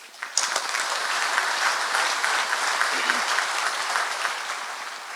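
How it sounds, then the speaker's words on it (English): Audience applause at a regional industry safety awards ceremony, steady sustained clapping from a full room that holds at an even level throughout, with no voices over it. "Let's give them all a round of applause."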